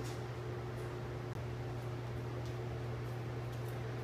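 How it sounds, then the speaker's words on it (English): A microwave oven running a multi-minute cooking cycle, giving a steady low mains hum with a broad, even whir of fan noise throughout, close and unchanging, with no voices. "We're going to put it in the microwave 6 to 8 minutes"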